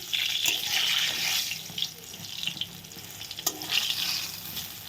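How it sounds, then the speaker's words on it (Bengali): Bottle gourd shoot fritters fry in hot oil with a bright, uneven crackle and bubbling, a few scraping knocks from a spatula close by, no voices. "এগুলো এখন ভাজা হবে বড়াগুলো"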